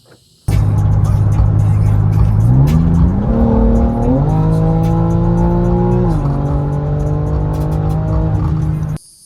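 A powerful BMW G80 M3 engine starts up loudly and revs, its pitch climbing in steps and then settling into a strong idle before cutting off.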